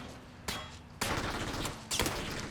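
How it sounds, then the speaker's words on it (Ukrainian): A machine gun fires in PUBG as a long, dense fusillade. The rapid shots come in three loud bursts with brief breaks between them, and no voice is heard. "У нього кулемет."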